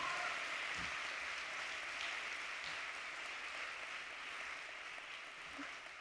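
A church congregation applauds during a sermon, a steady, moderately distant wash of clapping hands that holds evenly for several seconds with no voices on top.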